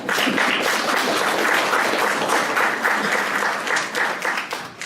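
Sustained, dense applause from a large audience at a university Gaudeamus ceremony in Mielec, loud and steady for several seconds before thinning slightly at the end.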